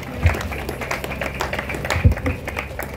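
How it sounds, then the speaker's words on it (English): Audience at a memorial hall groundbreaking ceremony claps in a sparse, uneven patter, with a few louder thuds and taps standing out near the microphone. "Keep clapping until she gets up and comes to this podium."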